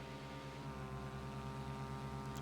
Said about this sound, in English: It definitely sounds like a powerful engine.